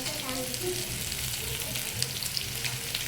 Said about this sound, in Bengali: দেখুন খুব সুন্দর ভালো করে ভাজা হয়ে গেছে লাল করে